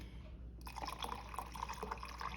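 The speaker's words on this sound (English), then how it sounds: "And then I add some water to it." Water pours into a mix of coconut oil for a homemade creamer, a near, splashy trickle that begins suddenly after a brief quiet and runs steadily with small bubbling drips.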